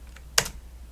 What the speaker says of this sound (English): So I'll type in Buffalo.